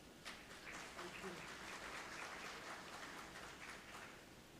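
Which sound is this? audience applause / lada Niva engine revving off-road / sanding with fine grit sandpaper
audience applause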